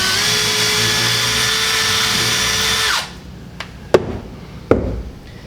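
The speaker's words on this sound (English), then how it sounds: "Get you a little starter hole. Don't drill it too big." A drill bit spins at a steady high whine while making a starter hole during a dishwasher installation, then stops abruptly and is followed by two sharp taps.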